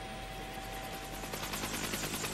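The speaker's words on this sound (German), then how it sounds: "Sogar das Viehfutter wird per Helikopter gebracht." A helicopter flying supplies and cattle feed to farms cut off by the 1978/79 snow disaster on Fehmarn, its rotor giving a steady rapid thudding chop over a constant drone that grows slightly stronger toward the end.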